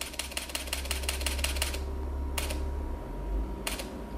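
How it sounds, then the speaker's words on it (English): A camera shutter fires in burst mode, a rapid burst of crisp clicks for nearly two seconds, then two more isolated shutter clicks follow after a pause. "I'm going to just hold down the shutter"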